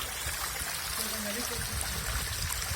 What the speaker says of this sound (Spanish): Y aquí prácticamente está saliendo el agua.